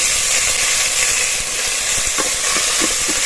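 Loud, continuous sizzle of spices frying in oil with ginger and green chili paste for vegetarian khichuri, a steady hiss with faint stirring scrapes and no talking.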